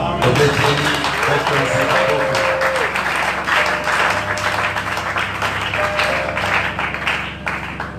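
A church congregation applauds in a continuous, loud clatter of many hands, with voices and some music mixed in throughout.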